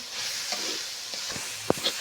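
Oil hitting a hot pan for cooking tengra fish, a steady close hiss with a couple of sharp clicks and pops near the end, no voices.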